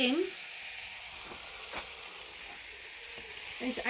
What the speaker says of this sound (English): while that's sauteing away, don't want to overcook the leeks